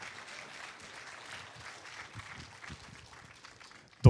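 Applause from the audience at the Court Métrange 2013 festival closing ceremony, a soft, distant patter of clapping that holds steady and then ends in a sudden loud knock or thump right at the close.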